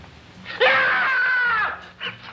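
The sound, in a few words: person screaming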